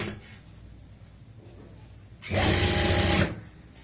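A sewing machine stitches along the collar of a women's kurti, one loud whirring burst of about a second following quiet handling of fabric.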